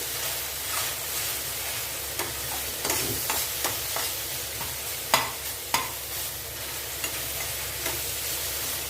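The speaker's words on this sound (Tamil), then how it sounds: "இப்போ இது நல்லா வதங்கி வரட்டும்" Onions and tomatoes sauté in a pan for kalyana kadappa, a steady sizzle punctuated by repeated scraping and clinking strokes of a spoon stirring against the pan.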